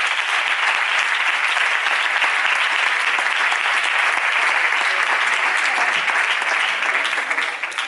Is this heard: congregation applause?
yes